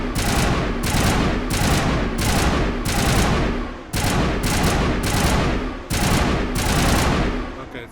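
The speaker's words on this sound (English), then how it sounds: "our shots are kind of going everywhere" Dense, rapid gunfire in the video game Mass Effect 1, loud sustained bursts of automatic shots broken by brief pauses, with no talking.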